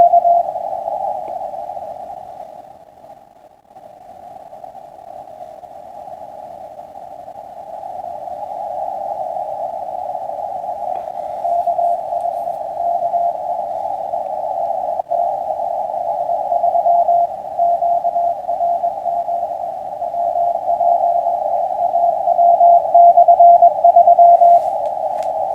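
An amateur radio receiver plays an RTTY signal during a North American QSO Party, a narrow steady warbling tone with background noise that fades and swells in strength over about twenty-five seconds, no voices.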